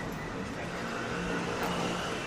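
A car passing by outdoors at night, a low steady rolling whoosh that swells slightly and fades, fairly distant under a broad noisy street background.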